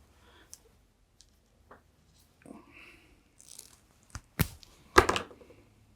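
A short length of cable is snipped with cutters during a small lantern-display build, giving a few quiet clicks followed by two sharper, louder cuts near the end.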